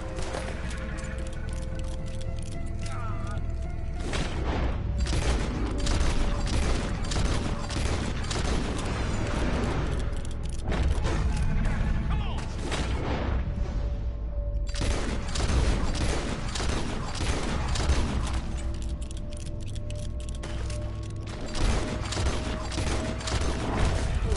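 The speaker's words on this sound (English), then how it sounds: "Keep shooting." Dense, sustained gunfire from the video game Red Dead Redemption 2, with rapid overlapping shots and heavy booms rattling continuously for the whole stretch, loud and close, with only brief lulls between bursts.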